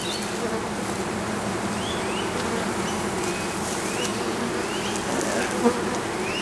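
Dense, steady buzzing of many honey bees from an open beehive during a swarm-control inspection, a loud continuous drone close by with occasional individual bees passing.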